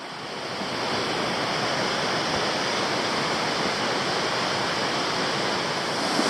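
Frazer Falls on Fraser Creek in Tasmania pours as a steady, broad roar of rushing water, constant and unbroken from start to finish with no voices.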